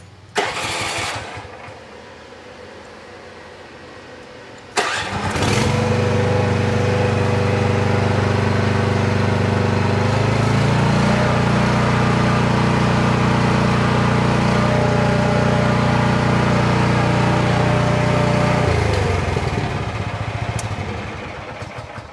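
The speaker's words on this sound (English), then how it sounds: "This is my mini excavator from Jansen, the BM500." A Jansen BM500 mini excavator engine cranks and starts, then runs loud and steady nearby, revving up to a stronger pitch before easing back down near the end.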